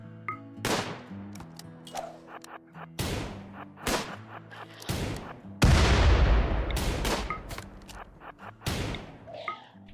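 Gunfire in the RimWorld video game: a string of sharp shots and thuds in bursts, with one longer heavy rumbling blast in the middle, loud and close, and no talking over it.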